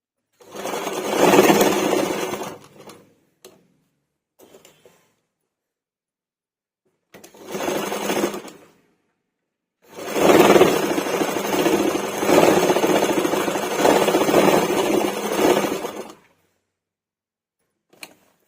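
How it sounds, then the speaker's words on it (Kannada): A sewing machine stitches blouse fabric while the chest cups of a blouse are altered. It runs in separate bursts, one short, one medium and one long steady run of several seconds, with pauses between and no talk. "ಇವಾಗ ಇದು ಸ್ಟಿಚ್ ಮಾಡ್ಕೊಳ್ಳೋಣ"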